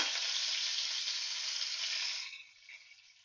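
Onion and tomato hit hot oil with curry leaves for a tempering: a steady, bright sizzle and crackle that holds strong, then eases and thins toward the end, with no voices.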